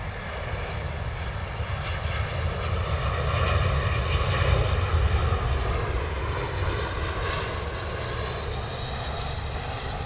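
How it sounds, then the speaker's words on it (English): A Lufthansa Airbus A340 flies over near London Heathrow, a loud, steady engine roar that swells toward the middle and holds broad and sustained, with no voices. "it would have been awesome to have seen the Lufthansa A340 flying over us"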